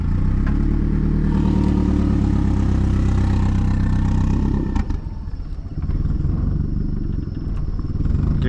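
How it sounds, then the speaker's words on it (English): A hot drift car engine idles loudly and close, a rough, lumpy low rumble that drops off abruptly partway through, then settles back into a quieter, uneven idle, with no voices. "You want to just let it idle?"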